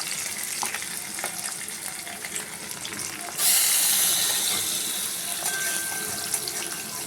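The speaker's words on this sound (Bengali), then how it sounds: "দুপুরবেলায় গরম গরম এই ইলিশ মাছ ভাজছি ভাতে খাবো বলে" Hilsa fish fries in a pan with a steady hiss and crackle, while a louder rush of running water joins partway through.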